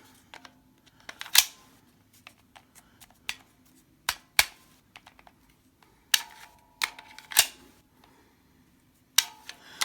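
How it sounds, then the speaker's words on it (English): A Magpul 12-round magazine being handled and seated into a Glock 26 pistol, heard as a series of sharp, close plastic clicks and taps spaced irregularly, with no talking. "Let's go ahead and put it in the gun first."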